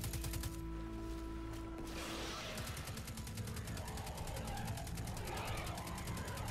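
Sustained rapid gunfire in the video game Destiny 2, dense and continuous automatic shooting that runs through the whole stretch, loud and close, with little else heard above it.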